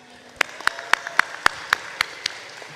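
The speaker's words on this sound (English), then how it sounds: "please let us give another round of applause for the concert choir" At a university commencement ceremony, a few clearly separated hand claps ring out in a slow, even rhythm, sharp and fairly close against a quiet hall, then fade away.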